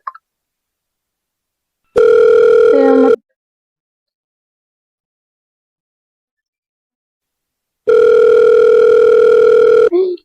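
Telephone tones from a call that will not connect: two steady electronic beeps, each lasting one to two seconds, separated by a long silence and sounding loud and clear with nothing else around them.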